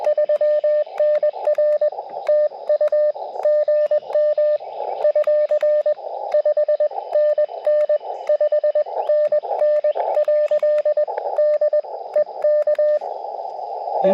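Morse code CW tones on amateur radio beep out a call sign in crisp rhythmic dots and dashes, a steady mid-pitched tone keyed on and off, clear and alone.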